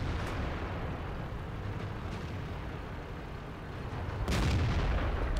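Artillery fire in a tank video game, heard as a sustained, dense rumbling roar with a heavier boom swelling near the end, loud and continuous without speech.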